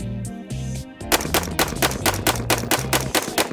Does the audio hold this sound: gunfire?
yes